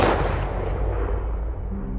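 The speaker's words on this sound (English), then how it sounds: "And then the gunshot." A gunshot sound effect in a horror survival game trailer, heard as one heavy boom decaying into a long rumbling tail that fades over about two seconds.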